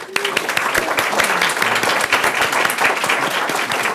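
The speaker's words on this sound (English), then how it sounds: "one more round of applause" A school board meeting audience gives a round of applause, a brisk, fairly close scatter of individual claps that carries evenly through the hall, with a voice faintly audible underneath.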